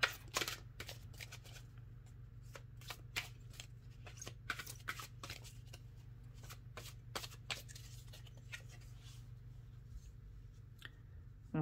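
A deck of cards is shuffled by hand in a quiet room, a long run of quick, crisp riffling snaps and flicks over a low steady hum.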